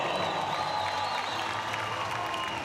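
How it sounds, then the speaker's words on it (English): Volleyball arena crowd at a CEV Champions League final between Imoco Volley and Scandicci applauding a player, sustained distant clapping with a faint tonal hum underneath and no clear speech. "She's getting a round of applause from just about everybody."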